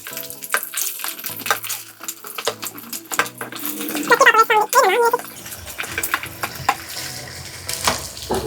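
Bitter gourd pieces tipped into hot oil with curry leaves, a clattering series of knocks and pan clanks over a rising sizzle and crackle, close and uneven, with a faint voice briefly in the background.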